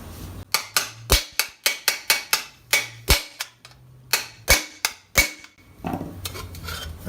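Metal armor rivet struck with a hammer on a chisel-like rivet set, a rapid series of sharp, loud ringing blows in irregular bursts with short pauses and softer handling noise between them.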